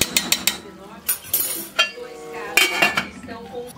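Spoon stirring stroganoff sauce with cream in a metal pan, a rapid series of close clinks and scrapes against the pan, louder bursts near the start and middle, with no voice over it.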